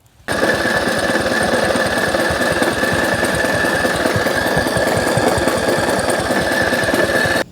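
A budget mudding riding mower's small engine, fitted with a new carburetor while an ignition fault is suspected, starts abruptly and runs loud and close with a fast rattling, uneven clatter for about seven seconds before cutting off.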